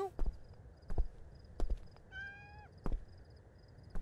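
A cat meows once in the video game Mayonaka 10 Chome, a short rising-falling call amid sparse thumping footsteps and game sounds.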